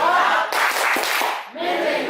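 A classroom group doing the tepuk fokus clapping routine, with loud, close rhythmic claps mixed with voices chanting along, brief pauses between bursts.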